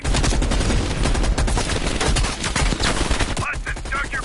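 Heavy machine gun fire in Call of Duty Black Ops Cold War pounds out a dense, loud stream of rapid shots with sharp cracks, briefly thinning near the end.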